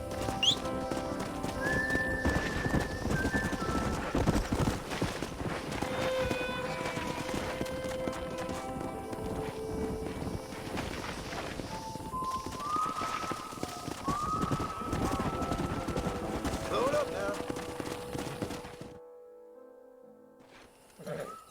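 Horse hooves clip-clop and gallop in Red Dead Redemption, a stallion's rapid rhythmic beats with a whinny and ringing tones over them, loud and close, before everything drops away to near silence at the end.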